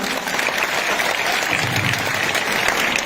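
Loud, sustained applause from a large crowd at a government college's annual function in Nawalgarh, dense clapping filling the whole stretch without letting up.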